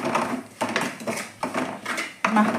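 Masala curry being stirred in a pan with a spoon, several rhythmic scraping and clinking strokes of metal against the pan, close and fairly loud.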